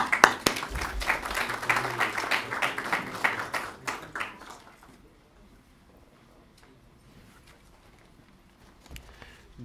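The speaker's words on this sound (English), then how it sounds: "Give him a round of applause." Audience applause for the president of a university economic society at an evening lecture, a dense burst of clapping for about four seconds that fades into a quiet room with faint murmurs and a few late claps.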